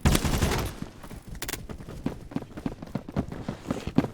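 Honey Badger rifle firing in a video game at close quarters, an opening burst of rapid shots followed by scattered single cracks and footstep-like thuds in an irregular rhythm.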